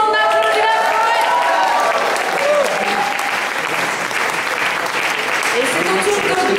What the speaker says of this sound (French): On applaudit la poète.